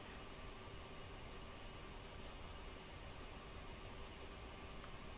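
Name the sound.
Concorde engine number 4 running, from video game MSFS 2020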